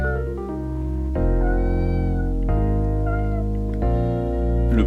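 A person imitating a cat, a run of drawn-out, voiced meows in a steady, close chain, each mew sliding in pitch with rich harmonics and no pauses between calls.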